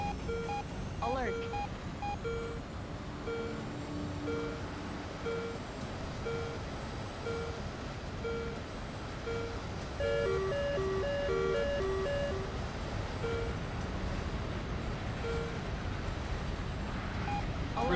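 Repeating electronic beeps of a missile warning alert sound in the War Thunder flight game from a Su-25 cockpit, pulsing in short tonal bursts over steady engine drone while someone talks.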